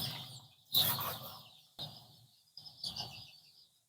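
Andijan black chicks about five days old chirping, a few bright peeping bursts in quick succession with short pauses between, close and fairly faint.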